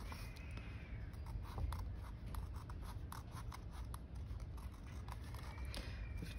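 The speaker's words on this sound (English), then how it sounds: "Try not to cut too much of your actual envelope off." Scissors cut through a paper envelope in a quiet room, with a run of soft, rapid snips and crisp paper rustles close by.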